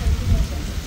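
Heavy rain pouring down on a day trip to Nainativu near Jaffna, a dense, loud, continuous wash of noise heavy in the low end, with a voice speaking over it.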